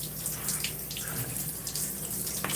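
Shower water running steadily while conditioner is rinsed out of hair, a close, even rushing spray with occasional splashes and shifts in the flow.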